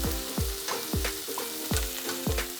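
Potato bonda filling frying in a pan as a spoon stirs it, loud close sizzling broken by about seven sharp scraping strokes of the spoon against the pan.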